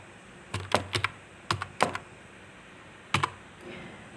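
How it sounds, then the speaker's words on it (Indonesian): Keys clack on a computer keyboard as commands are typed for a network switch configuration, several short clusters of close, crisp taps separated by pauses. "Nah, kemudian ketik enable."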